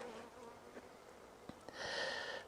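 Honey bees buzz around an open hive being split in an apiary, a faint, steady hum with a few soft ticks and bumps, swelling louder toward the end.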